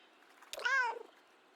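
A single drawn-out cat meow from the video game Kentucky Route Zero, clear and fairly close, rising then falling, alone against a quiet background.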